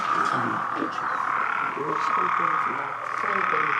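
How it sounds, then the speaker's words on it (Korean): Unusual frog-like bird calls in an outdoor setting, a dense chorus of repeated low croaking notes over a steady bright hiss, continuous and fairly loud. "이런 새소리는 처음 들어봐요"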